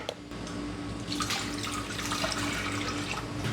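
Water runs steadily from a tap into a container for pickled red onion brine, a continuous close splashing wash with no talk.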